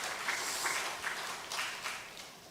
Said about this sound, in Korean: 우리 박수로 격려하며 환영하도록 하겠습니다.